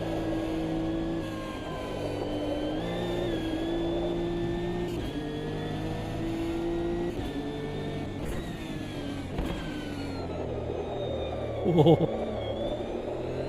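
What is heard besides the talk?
GT3 race car engine in video game Automobilista 2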